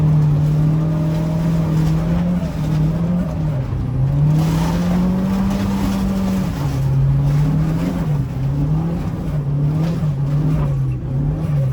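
Mitsubishi EVO V RS engine pulling hard through the gears, a loud close drone that rises steadily, dips briefly at each shift and climbs again.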